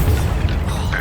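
A Bombarda explosion spell in the Hogwarts Legacy video game bursts with a loud, deep boom and a rumbling low-end blast that lingers briefly.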